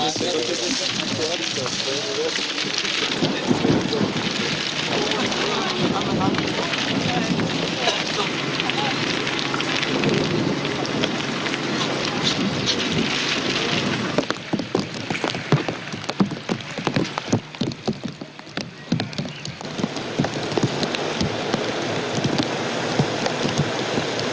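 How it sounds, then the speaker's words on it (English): Steady rain pours outdoors on a film location, a dense hiss that continues throughout, with denser patter of drops striking surfaces in the second half and voices heard faintly in the background. "Oh God, it's raining."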